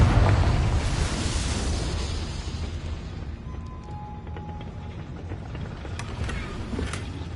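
Confringo fire spell blast in Hogwarts Legacy, a loud rumbling boom that starts at full strength and slowly decays into a long noisy tail with faint game effects.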